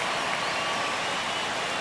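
Steady broadband roar of a baseball stadium crowd cheering during a one-run ninth inning between the Detroit Tigers and Toronto Blue Jays, a continuous wash of distant voices with no break.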